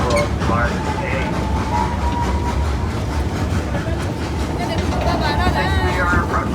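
A train rumbles along steadily with a continuous low roar and faint clatter, approaching Pacific Station, while voices murmur in the background.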